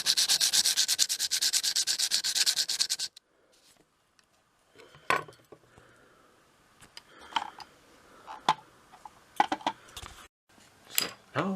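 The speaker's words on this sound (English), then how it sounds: "now I just have to do the finishing sharpening and the knife is done." A homemade bushcraft knife cut down from an old putty knife gets its final sharpening, opening with a few seconds of fast, harsh rasping strokes, then after a brief silence a string of separate scrapes and taps.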